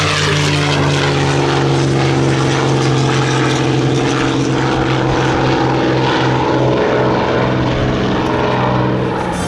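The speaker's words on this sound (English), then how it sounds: "the North American P-51 Mustang" A North American P-51 Mustang warbird at an airshow, its propeller engine droning loudly and steadily throughout with a strong low hum, as if passing nearby.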